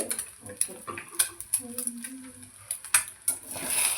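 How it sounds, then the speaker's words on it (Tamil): Eggs scrambled in a pan with a utensil, quick scraping and tapping strokes against the metal over a faint sizzle, close and irregular. "இப்போ வந்து முட்டையை நல்லா ஸ்கிராம்பிள் பண்ணியாச்சு"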